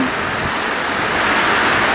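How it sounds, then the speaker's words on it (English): Heavy rain pours down in a steady, loud, dense hiss during an Adelaide rain storm, heard from under a veranda with no talking over it. "Absolute bucketing down with rain"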